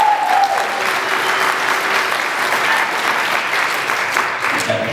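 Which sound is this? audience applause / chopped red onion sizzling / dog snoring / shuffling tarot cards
audience applause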